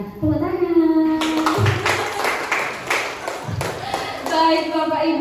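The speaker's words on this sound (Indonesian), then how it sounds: "Tepuk tangan." An audience at a school teachers' presentation claps hands in a burst of dense, uneven applause lasting a few seconds, with voices and a sung or hummed tone heard before and after.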